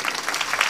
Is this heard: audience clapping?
yes